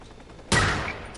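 Gunfire in a first-person shooter erupts as a sudden loud burst of shots, then a rattling tail of fire that slowly fades, with no talking over it.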